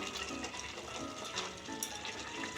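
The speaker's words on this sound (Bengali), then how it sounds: "এখন নেড়ে চেড়ে আমি চাটনিটা তৈরি করে নিচ্ছি" A spoon stirs Bengali pineapple chutney in a pan over a low-medium gas flame, making soft scraping and sticky bubbling sounds against a faint sizzle, close and quiet.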